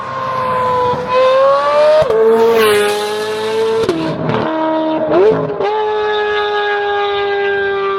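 Straight-piped Chevrolet Corvette C8 Z06 supercar engine revving hard and loud up close, its rising and falling howl shifting pitch over several throttle blips and gear changes, with no talk.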